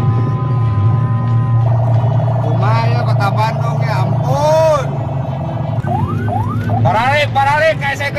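An ambulance siren wails in rising and falling sweeps on a busy road, held up by a convoy of motorcycles whose engines rumble steadily underneath, with shouting voices over the traffic noise.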